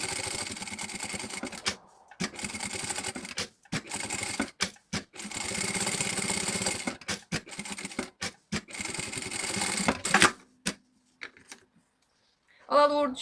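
A sewing machine runs stitching a seam through foam in bursts of rapid mechanical chatter, stopping and restarting several times, with brief pauses and a short voice near the end.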